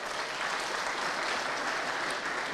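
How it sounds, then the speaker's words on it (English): Steady, dense applause from a church congregation welcoming a pastor's staff, loud and continuous throughout with no voices over it. "Clap for them."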